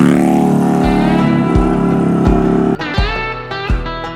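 A 2013 Harley-Davidson Dyna Street Bob FXDB V-twin engine idles close and loud with a deep, lumpy throb, then blips the throttle in a few sharp revs that swell and drop back.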